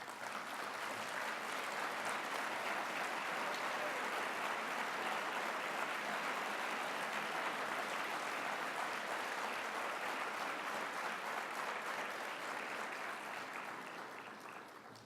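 A large convention audience at a journalists' gathering applauds steadily for about fifteen seconds, a broad, even wash of many hands clapping that slowly tapers toward the end.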